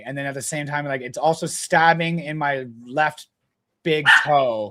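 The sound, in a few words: dog barking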